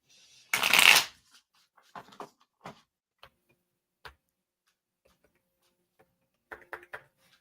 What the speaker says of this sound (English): He won't let me shuffle them.